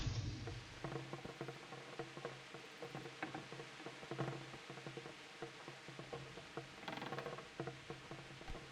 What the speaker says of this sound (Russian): Там что-то дождь, походу, идет.